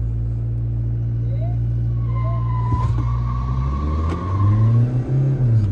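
A Toyota Fortuner and a Mahindra Scorpio-N in a drag race hold a steady low engine drone, with a sharp burst midway and the rumble swelling toward the end as they accelerate.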